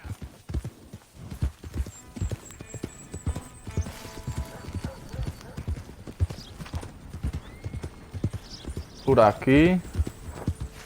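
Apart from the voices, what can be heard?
horse hooves in a video game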